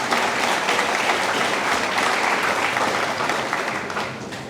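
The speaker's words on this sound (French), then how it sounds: "Je vous invite de l'applaudir, s'il vous plaît." An audience applauds steadily at a graduation ceremony, a dense, loud wash of clapping that holds evenly for several seconds before tapering slightly at the end.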